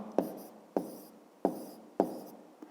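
Four evenly spaced scratchy strokes of a pen writing an answer in a notebook, close and soft, each sharp at the start and trailing off.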